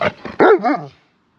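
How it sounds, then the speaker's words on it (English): A dog barks on command, giving a quick run of three or four sharp, close barks within about a second before falling silent. "Lucy, what does the dog say? Go speak"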